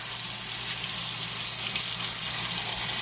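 Tap water runs steadily into a sink to soak turnip greens and turnips, a close, continuous hissing gush with no pauses and no voices.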